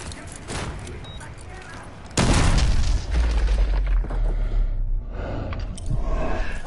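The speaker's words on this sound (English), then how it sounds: "Oh, flashbang." A flashbang grenade goes off in Call of Duty Modern Warfare 2 Remastered with a sudden loud broadband blast, then a sustained roaring, ringing wash under game chatter and gunfire.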